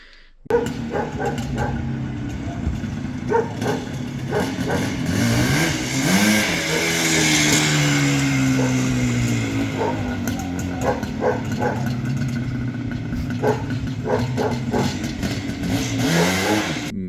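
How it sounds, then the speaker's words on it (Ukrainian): An IZh motorcycle engine with a PD 30 carburetor idles and then revs up, its pitch climbing and falling, while sharp bark-like yaps break in at intervals. "даєш ручку газу, він зривається, супер їде"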